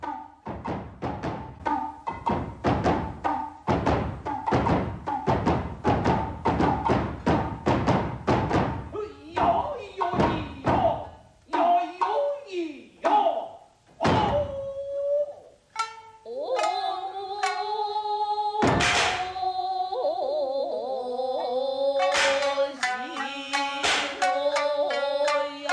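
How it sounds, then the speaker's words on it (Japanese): Japanese tsuzumi hand drum accenting a kabuki dancer's foot stamps in the Tori Kagura dance from Tomo Yakko, sharp dense strikes crowding the first half, then sparser hits under sustained flute and shamisen-like tones, close and loud. "鼓が踊り手の足拍子をこのように引き立てています。"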